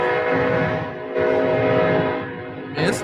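A train passes through downtown at night with a loud, sustained horn blast holding steady tones over the rumble of the rails, followed by a brief high screech at the end.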